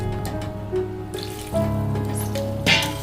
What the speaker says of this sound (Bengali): জল জল দিয়ে দিয়েছি আর একটু জল লাগবে